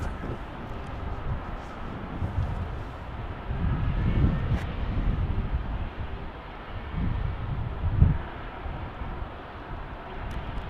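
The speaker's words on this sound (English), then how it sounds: "So we're landing on runway 35." A passenger airplane lands on runway 35 at Salt Lake City airport, heard as a steady, distant jet roar with wind rumble that swells gently in the middle and stays continuous throughout.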